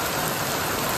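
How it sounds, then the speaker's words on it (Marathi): Steady rain just beginning to fall, a dense even hiss of drops on surfaces close by, unbroken and alone with no voices. "पावसाची सुरुवात कशी झाली, माझा निघायचा टाईम झाला तर पाण्याने बघा सुरुवातच केली"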